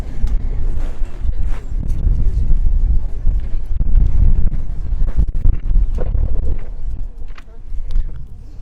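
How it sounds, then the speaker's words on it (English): Gusty wind buffets the microphone outdoors at a bowls match in South Africa, loud low rumbling blasts that rise and fall continuously with brief knocks, under a faint background. "Just want to limit the effect of the wind on the sound."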